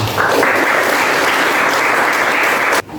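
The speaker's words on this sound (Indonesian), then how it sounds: "Kasihkan aplaus untuk kelompok 5." Classroom of students applauding a student group, loud dense clapping that holds steady for nearly three seconds and then stops abruptly, close by with no speech over it.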